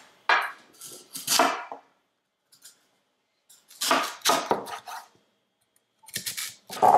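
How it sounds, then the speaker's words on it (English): A knife cuts crisply through peeled lotus root into thick slices on a cutting board in three separate bursts of quick strokes, with quiet pauses between. "I'm just going to slice my peeled lotus roots into thick slices"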